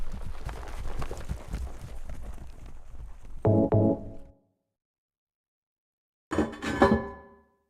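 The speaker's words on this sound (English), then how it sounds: "It means that any noise like the hoofs and the horses are immediately noticeable." Horse hooves clopping in a quick rhythm in the video game Silent Hill 2, then a couple of ringing metallic clanks, silence, and another short burst of clatter.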